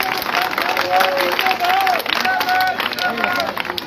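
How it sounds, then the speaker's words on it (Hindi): A crowd at an outdoor political welcome rally in Devi Nagar applauds steadily, a busy wash of clapping with cheering and chatter mixed in, and a voice talking over it. "जोरदार तालियां भैया साहब के लिए"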